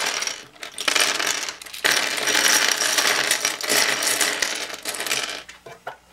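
Screw being unscrewed from an Eastsheen 4x4 puzzle cube, a loud close run of rapid metallic clicking and ratcheting in dense bursts with a brief gap, no voices.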